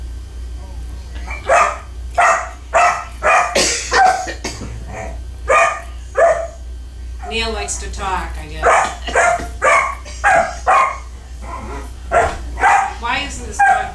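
A dog barks in short repeated bursts, loud and close, with a few whimpering yips between, while someone talks during a pause.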